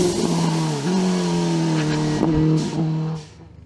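A Simca CG Turbo race car powers up a mountain hill climb, its loud, strained engine note holding steady with a brief dip and a sharp gear change near the end before the roar quickly fades away.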